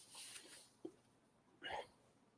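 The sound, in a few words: hiccups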